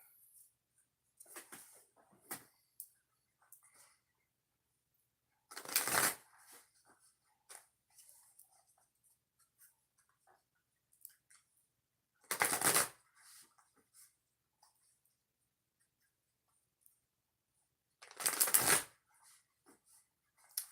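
Three bursts of oracle cards being shuffled, evenly spaced several seconds apart, with faint handling noises and quiet rustles in between.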